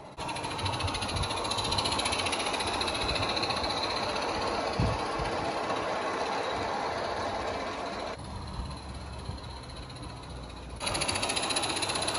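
Live steam Accucraft Sabrina model locomotive running, a steady close hiss and rhythmic rattle of valve gear that dips briefly in level before returning; no one speaks.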